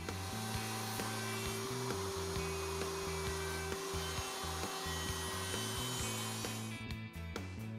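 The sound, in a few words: router table routing box joint sockets in wood board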